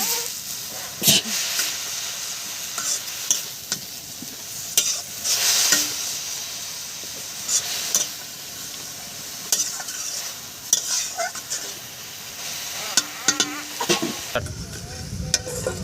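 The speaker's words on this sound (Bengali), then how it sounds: "এখন শাকটা ভালো করে মিক্স করে দিব, যাতে শাকটা ভালো করে মজে যাবে।" Leafy greens fry in a pan for chicken and greens, with a steady close sizzle broken by repeated scraping stirs of a spatula, no talking.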